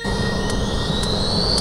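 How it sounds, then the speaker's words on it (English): A cartoon helicopter flies away with a loud, steady engine whine and rotor roar filling the whole short stretch, with no talking. "That swine's getting away by helicopter!"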